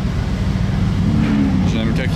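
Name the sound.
carbon Porsche car engine started and running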